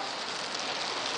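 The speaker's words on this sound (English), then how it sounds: "This is still a little bit drizzling outside" Light drizzling rain outdoors, a steady soft hiss of fine drops with no distinct impacts, continuous and even throughout the short stretch.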